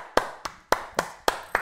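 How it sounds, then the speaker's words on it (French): Six sharp hand claps from one person, close and fairly loud, falling in an uneven pattern of paired beats with short gaps between them. "Je suis obligé d'applaudir, c'est beau."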